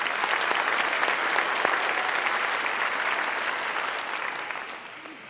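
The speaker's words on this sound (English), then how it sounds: "Let's give him another round of applause." Graduation audience at a 2016 fall ceremony applauding, a dense, sustained wash of many hands clapping that gradually fades toward the end.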